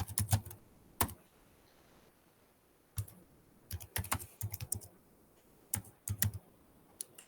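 Keyboard typing on a computer while writing JavaScript code, heard as clustered bursts of quick key clicks separated by short pauses, close and fairly crisp, with no talk over it.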